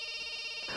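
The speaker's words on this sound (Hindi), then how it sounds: "अरे बार बार फोन बज रहा है, उठाते क्यों नहीं हो?" A telephone rings in a Hindi action film scene, an insistent electronic tone that is loud and steady and close, briefly alone.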